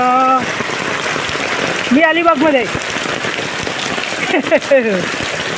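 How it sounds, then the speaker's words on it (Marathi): Heavy rain pours in a dense, steady roar, and a person speaks briefly over it. "पाऊस कोसळून राहिला आहे"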